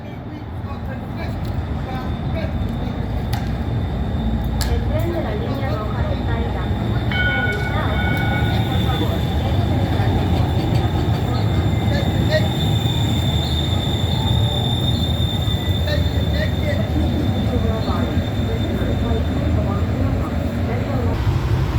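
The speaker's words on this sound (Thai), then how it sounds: "รถไฟมาอีกละประมาณ5 นาทีมาที่นึงล่ะเนาะ" A metro train rumbles loudly and steadily on the tracks, with metallic squeals and a sustained high whine as it approaches and pulls into a station in the USA.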